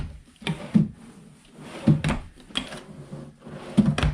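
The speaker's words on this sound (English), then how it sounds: "Let's check these drawers out." Drawers in a new Fox Mountain 265RDS fifth-wheel RV pulled open and pushed shut, several close, soft thuds and slides in quick succession with no talking.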